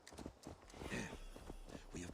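Horses' hooves clop in an uneven rhythm in Assassin's Creed Valhalla, close by and fairly quiet, while voices talk over the galloping.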